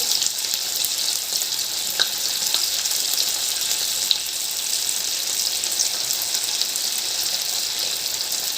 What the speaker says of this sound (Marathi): आपल्याला हे डीप फ्राय करायचं आहे